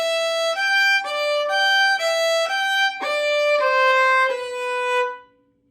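A bowed fiddle plays a short melody stepping downward note by note to a B, clear and close, ending on a held tone that fades out.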